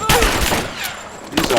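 Sustained automatic gunfire in Rise of the Tomb Raider during a suppressing-fire firefight, a dense rattling burst with shouted combat voices over it.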